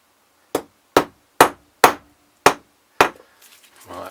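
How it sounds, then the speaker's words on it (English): Six sharp, evenly spaced hammer blows drive pipes onto a classic Mini SPi inlet manifold, each strike crisp and close with a short ring. A faint rustle follows the last blow. "Right, now it's hammer time."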